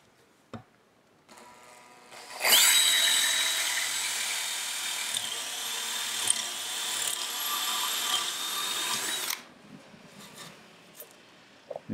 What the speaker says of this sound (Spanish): lo que necesitamos hacer es hacer una perforación guía, que la vamos a hacer con esta broca